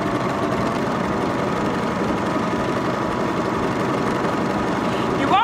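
A Baby Lock Vibrant serger runs continuously, stitching a rolled edge over fishing line with a steady, loud mechanical whir and hum, close up and alone until a brief higher squeal near the end.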